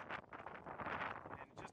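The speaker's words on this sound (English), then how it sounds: "It's extremely windy out today, obviously." Steady wind buffets the microphone while fishing for muskie, a rough, rumbling roar with gusty surges throughout.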